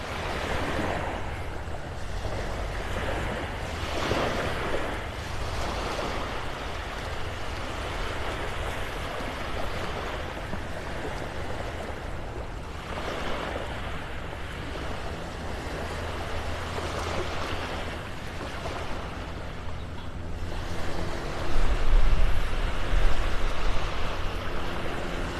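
Steady ocean surf rolls onto Vanderbilt Beach in Naples, Florida, a continuous broad wash with wind buffeting the microphone, swelling louder near the end, with no talk.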